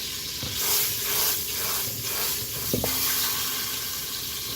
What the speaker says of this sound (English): The sizzling means it's cooking.